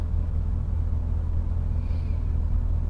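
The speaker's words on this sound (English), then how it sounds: "the sound of the C4 Corvette is just awesome" The engine of a 1994 Chevrolet Corvette C4 gives off a steady, deep rumble heard from inside the car, even and continuous with no voices.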